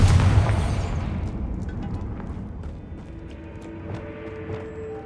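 A Confringo fire spell explodes in Hogwarts Legacy, one loud deep boom at the start that decays into a long rumbling, crackling tail with small pops.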